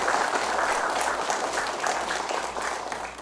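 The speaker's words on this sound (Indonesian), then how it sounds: "Tepuk tangan untuk semuanya ya." An audience in a radio studio claps for the teachers of SMP Negeri 29 Palembang, a dense, even burst of applause from many people lasting a few seconds.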